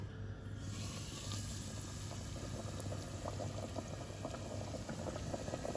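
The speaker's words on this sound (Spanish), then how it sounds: "El aceite calentándose en la olla de hierro y cuando esté bien caliente vamos a proceder a freír" Oil heating in an iron pot before frying, a faint continuous hiss and soft bubbling crackle that holds steady throughout, with no voices.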